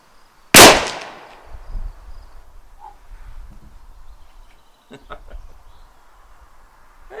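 A single sharp, loud shot from a Schmidt-Rubin 1889 rifle, followed by a decaying echo, outdoor rumble and a few faint clicks from handling the rifle.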